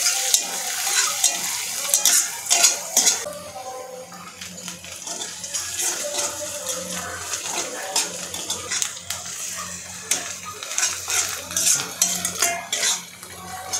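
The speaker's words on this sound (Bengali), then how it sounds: "মিডিয়ামে জাল রেখে ভালোভাবে পেঁয়াজটি একটু লাল করে ভেজে নিতে হবে" Onion and garlic sizzle in a pan over medium heat while a utensil scrapes and clatters against the metal in frequent rhythmic bursts, loud and close.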